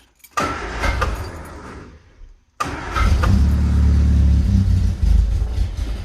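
A 1975 MG Midget cranks and catches after a few weeks unused, its engine sputtering roughly before settling into a loud, steady idle, alone and close by.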